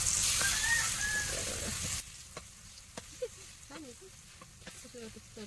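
Pineapple pieces roast with spice masala in a pan, giving a soft, steady sizzle and scattered light pops and scrapes at close range, fading partway through to a quieter crackle.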